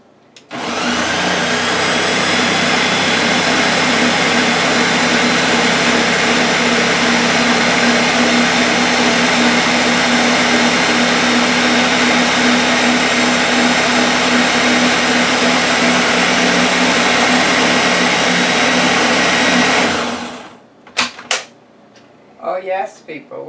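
Salmon salad filling with mayonnaise being mixed by machine: a loud, steady electric whirring that runs unbroken for about twenty seconds, then cuts off, followed by a few faint clatters.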